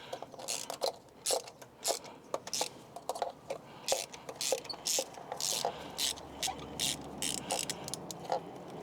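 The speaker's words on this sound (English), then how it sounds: "Now we're going to work on getting out the spark plugs. I have a 14mm spark plug socket, a 6-inch extension on a 3/8 ratchet," A 3/8-inch ratchet with a six-inch extension and a 14mm spark plug socket loosens spark plugs on a 2007–2013 Mini Cooper S. Rapid bursts of close, crisp clicking repeat in short runs, with no voices.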